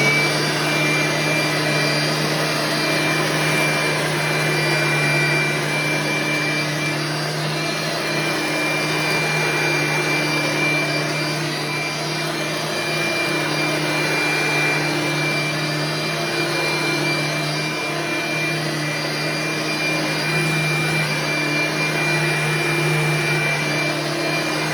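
A 1990s Eureka vacuum cleaner runs steadily and loudly nearby, a constant high whine over a low motor hum that holds unchanged for the whole stretch, with no voices.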